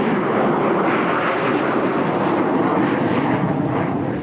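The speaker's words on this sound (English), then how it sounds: "It's the Harrier II, and it claims a direct line of descent from the Hurricane." A Harrier II jet fighter flies at an airshow, a loud, dense engine roar that stays steady for a few seconds, heard alone.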